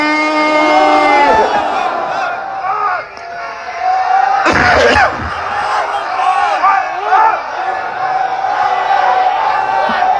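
A large outdoor crowd at a religious gathering roars a loud chant in unison in reply to a takbir call, swelling into a massed shout before settling into continued crowd voices.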